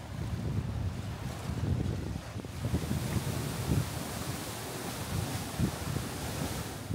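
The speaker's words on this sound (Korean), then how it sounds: "바람에 흔들리는 버드나무 뒤편으로 호수에 파도가 치고 있습니다." Wind-driven waves wash steadily against the shore of a wide lake, a continuous rushing surf mixed with gusty wind buffeting the microphone, no voices.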